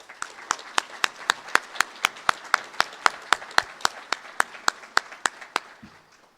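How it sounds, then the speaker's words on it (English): A single person claps steadily for grant recipients at an annual meeting, about two claps per second, crisp and close, with no crowd around. "If we can give them all a round of applause."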